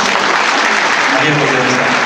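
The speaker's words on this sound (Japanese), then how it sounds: "皆さん拍手を送っております" Audience applause at a Japanese singing contest as two judges leave the stage, a steady broadband clatter of many hands filling the short stretch with no break.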